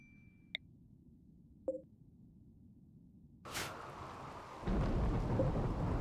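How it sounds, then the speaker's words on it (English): Thunder from a lightning storm in the video game RimWorld sets in as a sudden rumbling crack, then builds into a broad, steady roar of storm and rain after a few sparse beeps and clicks. "I am very tired of listening to lightning"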